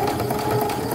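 A sewing machine runs a back stitch along a half-inch seam allowance on a bag, a steady close mechanical whir with a faint rattle filling a brief moment.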